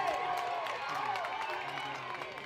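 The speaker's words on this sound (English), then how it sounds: "The crowd goes wild" Crowd at a college ultimate frisbee game cheering after a Callahan catch, distant and fairly faint roar with some clapping, under a commentator's talk.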